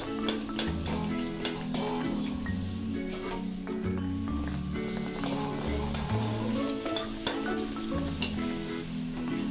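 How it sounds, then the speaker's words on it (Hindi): Mangalore banana buns are dropped one by one into hot oil over a medium flame and deep-fry with a steady, dense sizzle, close up, with occasional clinks of a utensil over faint background music. "हम इसे तलेंगे, थोड़ा सा मीडियम फ्लेम करेंगे और एक एक करके तेल में डालेंगे।"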